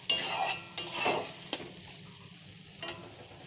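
Shrimp and ground yardlong bean paste stirred in hot oil, giving soft scraping and light sizzling with a few sharp utensil clicks against the pan, close and moderately loud with no talking.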